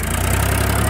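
A tractor's diesel engine runs steadily at 1800 RPM during a village fuel-economy test in Haryana, a loud, close, throbbing drone with a fast, even pulse.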